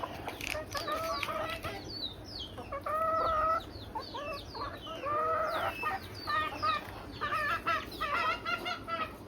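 Hens cluck and chatter close by in a farmyard, a busy run of short repeated clucks and calls from several birds over a low background rumble, with brief pauses between bursts.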